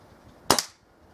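Single sharp crack of a Kral NP02 air rifle firing at a target, close and loud, with a quick double-peaked burst and a short tail before quiet.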